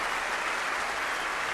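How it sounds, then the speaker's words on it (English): Virtual crowd in a snooker video game applauds a frame ball, a steady even wash of clapping that fills the short stretch without a break. "Crowd applaud frame ball."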